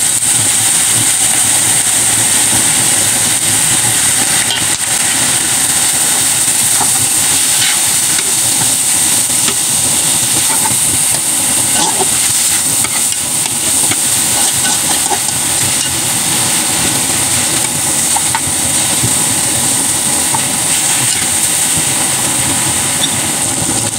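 Pork sautés in a pan with fish sauce added, giving a loud, continuous hiss of sizzling with steady crackle that stays dense and even for the whole stretch, with no talking.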